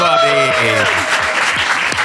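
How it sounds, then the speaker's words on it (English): Podcast audience applauding a guest arrival at a food-themed recording over a meal, steady clapping filling the whole stretch with voices and cheers mixed in. "we have a round of applause, please, for the awesome Natalie Portman, everybody?"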